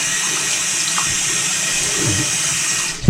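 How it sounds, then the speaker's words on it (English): Tap water running steadily into a sink as it is rinsed out, a continuous close splashing hiss with a slight gurgle near the end and a brief clunk as it stops. "I just like to rinse out the sink really quickly."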